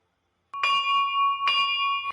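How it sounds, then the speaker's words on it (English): A bell rings out twice in a quiet night scene in a samurai quarter, each strike loud and close with a long, bright, sustained ring that fades before the next hit. No other sounds are present. "she started to hear a bell ring"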